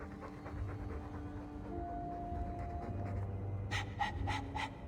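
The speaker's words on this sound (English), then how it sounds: "Well, pardon my dog for breathing." A dog pants in the Dragon Age 2 video game, a steady quick rhythm of breathy puffs continuing throughout, moderately close, with a low hum and brief bright sounds near the end.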